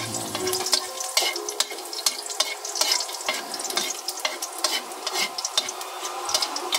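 Garlic sautés in a hot pan, giving a steady bright sizzle broken up by frequent scraping and clinking from stirring with a utensil.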